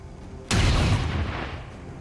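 Gunfire from a squad of soldiers in XCOM 2: War of the Chosen, a single loud sudden blast that rings out and decays over about a second and a half.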